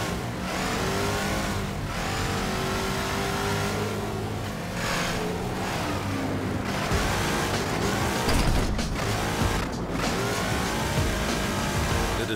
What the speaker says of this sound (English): Guess we're just driving.